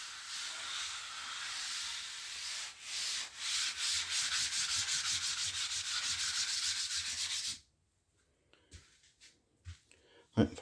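Hand sanding of a surface: steady, close back-and-forth rasping strokes for about seven seconds, then the scraping stops and only a few faint, scattered knocks remain.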